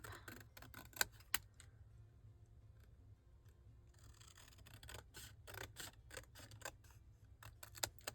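Scissors cut through a printed digital paper page to make tags, producing quiet, rapid snips and clicks that recur in irregular clusters throughout.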